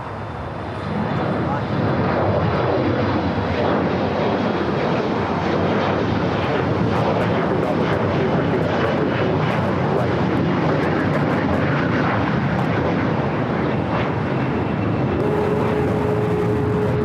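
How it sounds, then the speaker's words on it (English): A China Airlines Boeing 777 freighter, a cargo flight up from Taipei, arrives at LAX with a loud, sustained jet roar that holds steady for the whole stretch. "a China Airlines cargo flight 5138 coming up from Taipei, a 777 freighter, number 2 for arrival"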